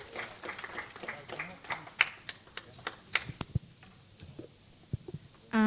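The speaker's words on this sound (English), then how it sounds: "Let's give her another hand of applause." An audience at a data conference claps for a presenter returning to the stage, a sparse, uneven scatter of individual hand claps that thins out toward the end, with speech nearby.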